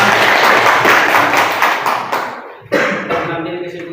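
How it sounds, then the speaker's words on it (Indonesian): Students in an Indonesian classroom clap for a discussion group, a brisk, loud round of close applause that stops abruptly, followed by a lone thump and fading room sound. "kita aplaus dulu pada kelompok 3"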